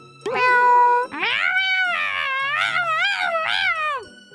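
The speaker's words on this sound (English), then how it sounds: "Why is there a kitten in the yard?" A kitten meows repeatedly in a yard, with a short high opening cry followed by a long, wavering, plaintive meow that rises and falls, loud and close, with no talk over it.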